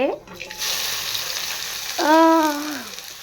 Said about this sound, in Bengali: তেল গরম হচ্ছে। ফার্স্ট আমি দেবো হচ্ছে কালো জিরে ফোড়ন।